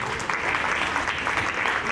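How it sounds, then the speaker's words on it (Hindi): Applause at a girls' senior secondary school event, a dense steady clapping from an indoor crowd lasting the whole moment, loud and continuous. "जोरदार तालियां।"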